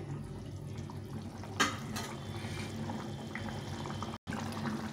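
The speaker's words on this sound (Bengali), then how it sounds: "এখন এই ঝোলটাকে ভালো করে ফুটিয়ে নেব।" Egg curry broth boils in a pan, giving a steady, close bubbling and hissing that runs throughout, with one brief clink early on and a momentary break near the end.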